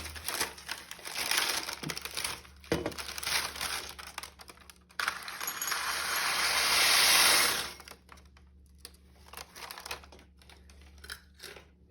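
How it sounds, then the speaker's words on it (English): Small crunchy roasted chickpeas rattle and rustle across parchment paper, building to a sustained crinkly pour into a ramekin, then give way to a few scattered taps and quieter handling. "pour these right into a ramekin"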